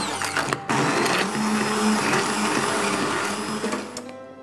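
A kitchen blender purees a hazelnut sauce, its loud motor whining steadily at close range with a brief stutter near the start before it cuts off at the end.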